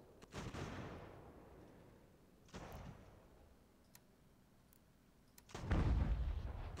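Distant volleys of musket and cannon fire from a battle in the Ultimate General: American Revolution strategy game, three rolling booming bursts spaced apart with faint scattered shots between, no talk.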